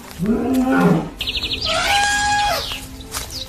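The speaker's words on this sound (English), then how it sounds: "Lions roared" A short, rumbling lion roar opens, then gives way to high chirping calls and a brassy trumpeting cry.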